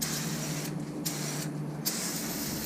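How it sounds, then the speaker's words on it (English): Brake cleaner sprayed onto a truck's brake rotor during a Toyota Tacoma rear disc brake conversion, two short bursts of aerosol hiss close by over a steady low hum. "I'm going to spray the back side of the rotor as well."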